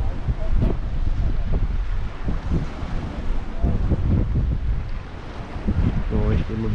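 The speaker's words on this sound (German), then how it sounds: "Leider ist es hier sehr windig." Strong wind buffets the microphone with a constant low roar at the Kugelbake in Cuxhaven, and a voice speaks faintly in German under the rumbling gusts.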